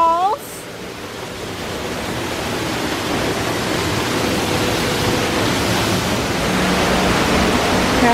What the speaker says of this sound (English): Here's some waterfalls.